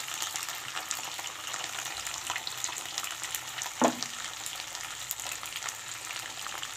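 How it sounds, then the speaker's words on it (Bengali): Something fries briefly in a pan before leafy greens are added, giving a soft, continuous sizzle with faint stirring and a single brief clink partway through, close and fairly quiet with no talking. "অল্প সময় ভাজা করে তারপর আমি শাকগুলো দিয়ে দেবো এর মধ্যে।"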